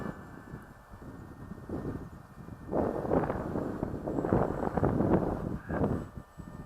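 Gusty wind buffets the microphone outdoors while a Lidl XL model glider flies, rising into a louder, rough rumbling roar in the second half and then easing off.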